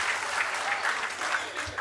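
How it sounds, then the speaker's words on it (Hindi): Continuous audience applause at a Hindi comic poetry gathering, a dense even patter of clapping from a crowd, steady and moderately soft for the whole stretch. "तालियां आपकी आती रहनी चाहिए"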